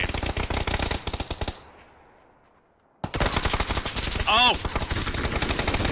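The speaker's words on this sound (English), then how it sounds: "I put a bunch of shots in him" Rapid automatic gunfire in a multiplayer shooter video game, loud and close, cut by a brief quiet gap before the bursts resume, with a short shout partway through.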